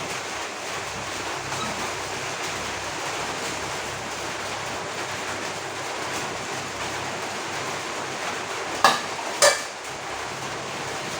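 Hot water poured into a pan of fried bottle gourd and potato makes a continuous, close, hissing wash of sizzle, ending with a couple of sharp utensil clinks near the end; no talk is heard.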